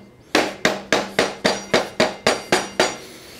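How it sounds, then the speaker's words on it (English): Ten sharp, evenly spaced knocks of a rubber mallet on a part of a 2023 Honda CL500 motorcycle, close and fairly loud, each ringing briefly before the next. "Got a rubber mallet somewhere."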